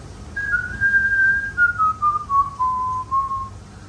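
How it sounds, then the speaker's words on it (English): Someone whistles a single sustained tune alone, the pitch gliding slowly downward across a few seconds, clear and close. "I'll whistle for you"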